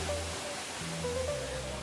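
Curug Ciherang, a clear-water waterfall in green mountain forest, gives a steady, broad rushing wash throughout, with faint tonal hum beneath and no talk.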